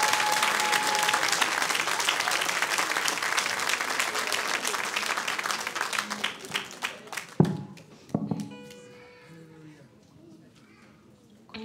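A church congregation at a Sunday morning service applauds in a dense burst of clapping that thins out into a few scattered claps and fades, with some voices.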